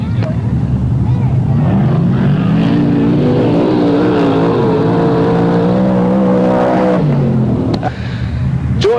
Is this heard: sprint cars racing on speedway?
yes